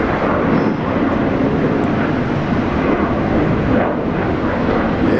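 Boeing E-4B Doomsday plane, a converted 747-200, at Brisbane International Airport: loud, dense jet engine roar filling the whole clip, close and steady with wind buffeting the microphone.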